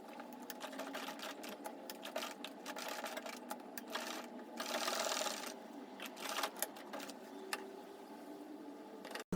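Close, continuous whir of a sewing machine stitching a loop on a halter-neck circle flare dress, with rapid needle clatter and a few brief speed changes, alone with no voices.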